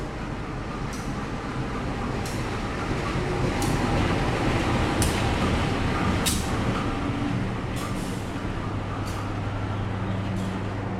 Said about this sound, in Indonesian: Keretanya Logawa masuk di jalur 2